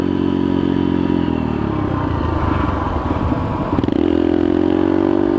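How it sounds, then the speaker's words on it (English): A pit bike engine revs hard during a street wheelie, a loud, close, buzzing whine that drops in pitch and then surges again after a rattling clatter. "Now I'm doing one more wheelie, guys."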